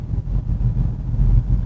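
A BMW 530e plug-in hybrid coasts down under regenerative braking after the accelerator is released, giving a steady low rumble of road and drivetrain noise inside the cabin with no talk.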